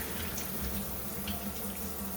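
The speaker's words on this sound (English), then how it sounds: "I'm going to run cold water over it," Cold tap water runs steadily over cooked noodles sitting in a colander in the kitchen sink, a continuous close hiss that fills the clip with no talking.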